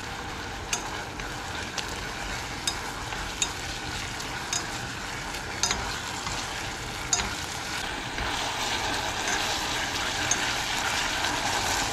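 Chapagetti instant noodles fry in a pan with pressed olive oil, giving a steady close sizzle. Occasional sharp pops and scraping clicks suggest stirring, and there is no talk.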